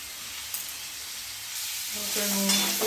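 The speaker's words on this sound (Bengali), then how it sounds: "এবার তেলটা গরম হয়ে গেছে, এবার দিয়ে দেবো আমলকিগুলো।" Amla, Indian gooseberries, hit hot oil for pickle, a quiet hiss swelling into a louder, fuller sizzle in the last second, with a faint clink early on.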